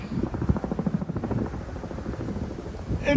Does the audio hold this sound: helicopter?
yes